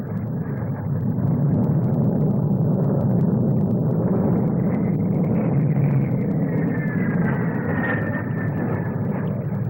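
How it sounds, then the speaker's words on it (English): Five Hawker Hunter jets fly an aerobatic display at the 1957 Farnborough air show, a steady, loud, continuous roar of jet engines that swells slightly and carries a faint rising whine, with no voices. "Followed by 5 of the Hunters giving one of the most polished aerobatic displays ever seen."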